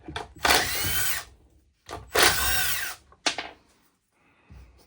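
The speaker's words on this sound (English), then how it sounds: "Realizing I missed 2 of these T20 screws. Let me remove those." A power screwdriver removes T20 screws during teardown of a Milwaukee M28 cordless bandsaw, giving three bursts of whirring, the first two about a second long and the third short, close by with no talk.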